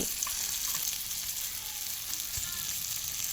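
Eggplant fries in a pan with a continuous, fairly quiet hiss of sizzling oil and no voices.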